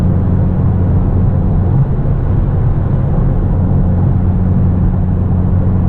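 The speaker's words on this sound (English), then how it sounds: "I can't hear anything over my exhaust, and the road noise of the Pirellis is pretty bad." Inside a Hyundai Veloster N with an aftermarket exhaust on Pirelli tires during a night drive, a constant low exhaust drone and tire road roar hold steady and loud throughout.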